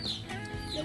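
Backyard chickens on a small farm near a piggery cluck in a few short, close calls over low background noise.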